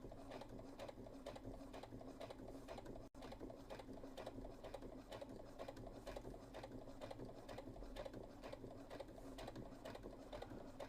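A sewing machine stitches long straight seams on a corset belt mock-up, a steady, close, rapid mechanical chatter that runs without a break apart from one tiny hitch.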